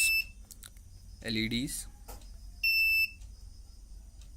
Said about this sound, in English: Now this one is the buzzer. See, we can control the buzzer with the switches